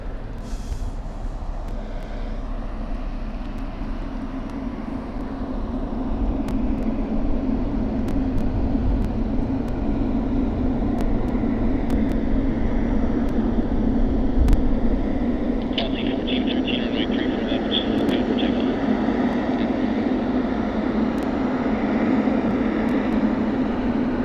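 A Singapore Airlines jet taxis out at Sydney Airport in summer, a steady low engine rumble and drone heard from a distance, with a brief higher whine joining partway through.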